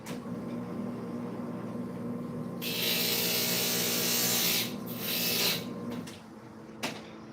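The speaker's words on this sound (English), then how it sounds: "I just want to grind that off and straighten my line up." A grinder takes excess material off to straighten a line, a close, loud rasping whine that runs steadily for a couple of seconds, pauses briefly, then resumes in a shorter burst over a low background hum.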